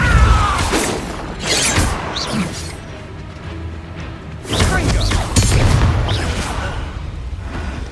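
Spell impacts in Hogwarts Legacy, including ice, levitation and knockback spells, land as loud booming crashes and shattering hits in several bursts over a rumbling battle background.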